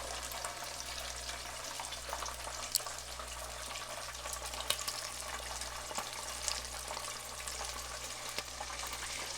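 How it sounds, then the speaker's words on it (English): Taape fish frying a second time in oil at an off-grid home on Hawaii's Big Island, a continuous even crackle and hiss with a low steady hum beneath and occasional sharper pops. "I'll fry it once, I'll take it out, let it rest, and then fry it again is what I'm doing here"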